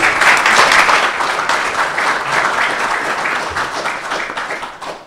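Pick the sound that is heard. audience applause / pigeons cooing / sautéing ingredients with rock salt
audience applause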